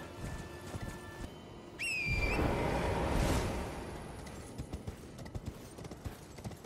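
Summoned horse in Elden Ring clip-clopping inside a tower, a short run of hoofbeats with a whistle and a neigh near the start, followed by game ambience and scattered soft steps.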